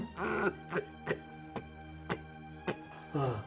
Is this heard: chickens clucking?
no